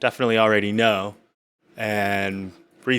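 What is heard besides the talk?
No everyday noise stands out behind the speech.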